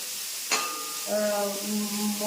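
Broken wheat sautés in a pan for upma, giving a soft steady sizzle and hiss with a faint tonal hum and a brief clink near the start, close and moderately quiet.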